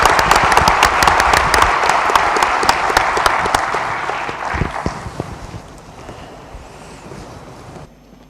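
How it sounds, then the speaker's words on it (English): Applause from a large audience at a business forum panel, loud and dense at first, then thinning and fading out over several seconds into quiet. "Please join me in a huge round of applause for our panel."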